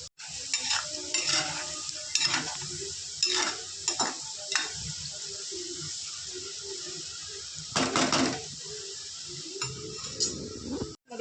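Wheat flour cheesy chips fry in a pan with a steady close sizzle, while a utensil stirs and clinks against the pan in short bursts.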